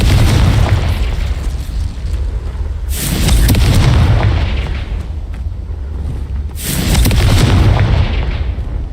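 The Confringo explosive spell in Hogwarts Legacy goes off in two loud, booming blasts a few seconds apart, each with a sharp burst and a rumbling tail over a continuous low background roar.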